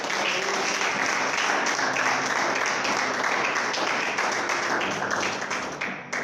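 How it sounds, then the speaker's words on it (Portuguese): A church congregation applauds together in a steady, dense wash of clapping that holds loud and even for several seconds, then thins slightly at the end. "Uma salva de palmas para Jesus."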